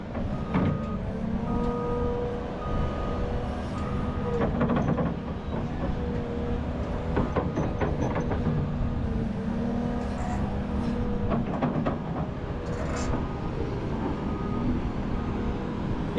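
A giant excavator, worth over $500,000, works on a high, caving cliff edge with a continuous loud rumble and clanking, plus occasional sharp metallic knocks and creaks.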